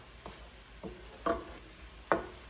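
Chicken breast frying in a pan, stirred in a few separate scrapes and sizzling bursts that get louder toward the end, with no voices.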